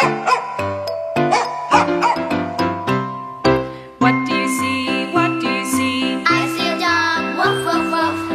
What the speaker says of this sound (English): I see a dog, woof, woof, woof.